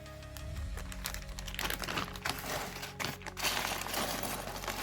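A large plastic parcel bag is crinkled and rustled close by while it is unpacked, with continuous crackling texture throughout.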